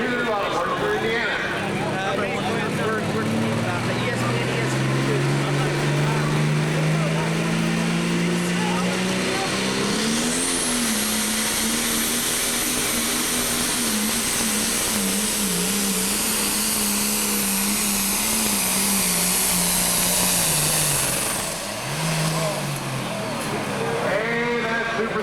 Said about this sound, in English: our second tractor in the pull off